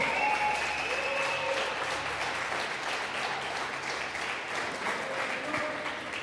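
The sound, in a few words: congregation applause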